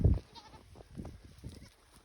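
Spanish goats in bitter cold out by the hay give a few short bleats, one loud and close at the start, then softer calls spaced apart against a quiet outdoor background.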